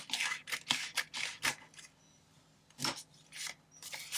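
Scissors snip through a piece of paper in a run of crisp, close cuts, several quick snips, a pause, then a few more, with no voices.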